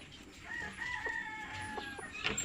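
Chickens and chicks on a poultry farm, a rooster crowing over overlapping clucks and thin chick peeps, moderately distant and continuous, with no talking.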